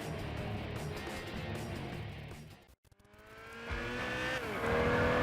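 Tires squeal and burn rubber on a race car in the Gran Turismo 6 racing game, a continuous loud engine drone with a brief dropout midway, then rising whine as the car accelerates, no talking.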